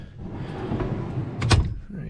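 A fridge slide shifts and knocks in the rear cargo area of a 100/105 series Toyota Landcruiser, a short rumbling slide with a sharp clunk as it stops, heard close.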